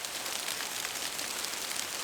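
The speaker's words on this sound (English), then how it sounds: "Here comes the rain. Dude, this is ice. This is sleet." Sleet falls in May, a dense, even hiss of icy pellets striking surfaces, soft and steady throughout with no voices.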